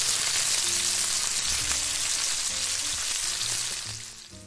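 Bacon fries in a pan with a dense, steady crackling sizzle that holds near and strong, then eases off slightly toward the end.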